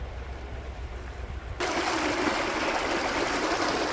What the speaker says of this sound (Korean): 다리 밑으로 흐르는 시냇물 소리가 오늘 트레킹도 기대됩니다